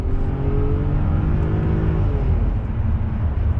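A straight-piped V12 BMW limousine engine revs hard, its droning pitch rising then easing off in a steady mechanical roar, heard alone without voices.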